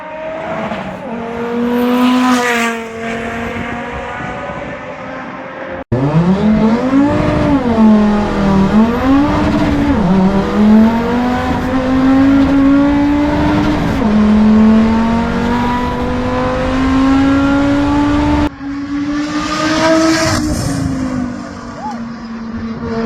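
Loud Audi TT RS race car engines roar continuously up close at Pikes Peak, revving and shifting through gears as they accelerate past, with pitch rising and falling.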